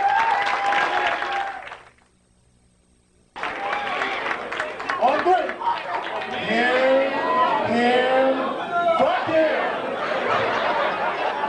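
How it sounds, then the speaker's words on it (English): Applause from an audience at a comedy show in Miami, with a short silent break, then clapping mixed with chatter, laughter and shouted voices throughout. "let's give a nice improv round of applause for Mike Reese"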